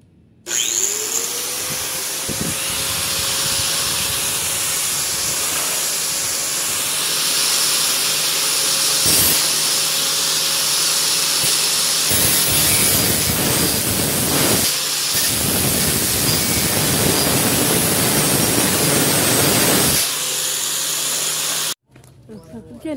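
An angle grinder cuts through steel with a loud, steady whining hiss for about twenty seconds, broken by a few brief dips in pitch and ending abruptly.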